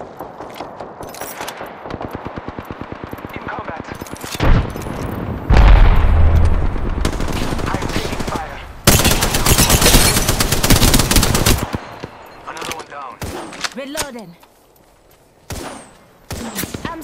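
Rapid automatic weapon fire and heavy booming shots from the Apex Legends battle royale game, dense bursts and loud blasts close up, with quieter gaps and scattered single shots toward the end.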